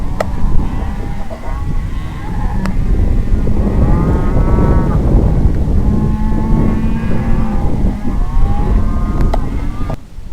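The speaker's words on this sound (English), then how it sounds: "Oop, cattle behind me." Cattle moo loudly nearby outdoors during a hog hunt, several drawn-out calls overlapping, with wind and engine-like rumble underneath.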